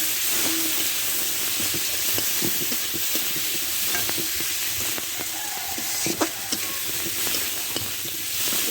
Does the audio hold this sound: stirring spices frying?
yes